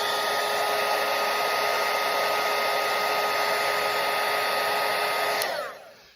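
A hair dryer blows steadily at close range to dry wet watercolour paint on a parrot painting, a constant loud whooshing roar that cuts off and fades out near the end.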